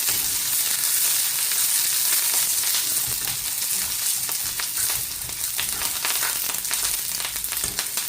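Onions and curry leaves sauté in a hot pan for Sri Lankan fried chilli coconut sambal, giving a loud, steady sizzle with scattered scraping clicks throughout.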